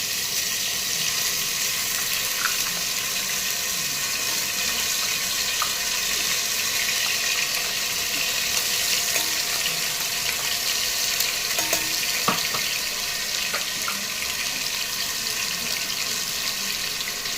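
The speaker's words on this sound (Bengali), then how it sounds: "এবার আমরা যে পেস্টটা করেছিলাম সেটা আবার তেলের মধ্যে দিয়ে দেবো।" Spice paste for chana masala sizzling and frying in hot oil in a pan, a loud, steady, continuous crackle with occasional faint clinks of stirring.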